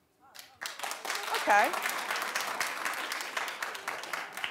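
A studio audience at a daytime talk show breaks into sustained clapping that swells quickly and holds, with a host speaking briefly over it.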